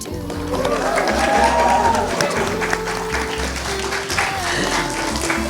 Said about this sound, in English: give them a great big cheer